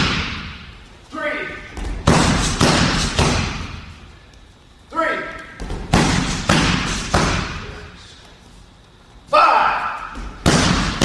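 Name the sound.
martial arts kicks striking a held pad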